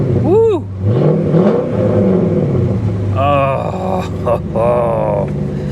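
A 2007 Bentley Continental GT salvage car with suspension damage revs loudly and close at an auction yard, its engine rumbling steadily beneath excited voices talking over it.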